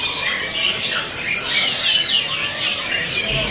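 A young songbird calls at a bird market stall, rapid squawking and chirping notes repeated close by over a busy, noisy background.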